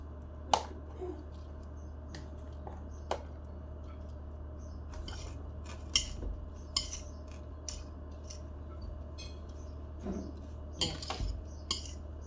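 A utensil stirring food in a cooking pot, with sparse, sharp metallic clinks and scrapes spaced a few seconds apart over a quiet room background.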